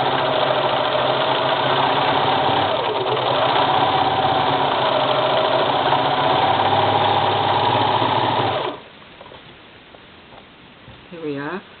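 A serger stitches a seam on Hawaiian print fabric for a soap bag, running with a fast, even mechanical whir for several seconds before stopping abruptly, followed by a short burst of talk.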